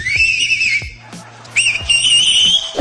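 An Iranian cleric whistles a bright, warbling birdlike tune in two loud bursts separated by a short pause, close to the microphone, with faint background noise underneath.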